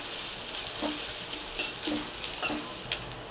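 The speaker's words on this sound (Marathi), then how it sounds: "तेलही गरम झालं की त्यामध्ये कांदा टाकूया। कांदा मऊ होईस्तोवर परतून घेऊया मंद आचेवरच।" Onion sautés in hot oil over low heat in a pan, giving a soft, steady sizzle with faint stirring scrapes, close and quiet, with no voices.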